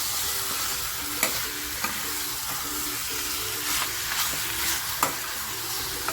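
Mutton pepper fry sizzles steadily in a pan under a constant frying hiss, with a few sharp scrapes and clinks as it is stirred, close and alone without talk.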